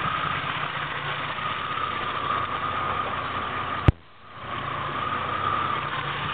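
A 1990 Jeep Cherokee Sport engine idles with a steady, close mechanical rumble, broken by one sharp click and a brief dip before the even idle returns.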